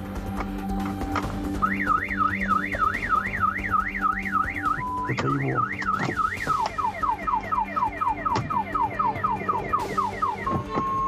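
A parked car's alarm wails in a rising-and-falling siren, then switches to rapid chirping whoops, loud and close, with a brief spoken remark midway.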